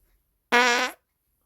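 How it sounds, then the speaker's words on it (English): A single loud fart lasting about half a second, with a buzzy, strongly pitched tone that sinks slightly at the end, set in silence before and after. "Time for a fart."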